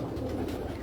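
Close, steady low cooing from an old pigeon held on a rooftop loft, a soft continuous murmur lasting under a second with no talking over it.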